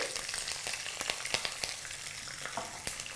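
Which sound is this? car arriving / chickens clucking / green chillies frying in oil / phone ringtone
green chillies frying in oil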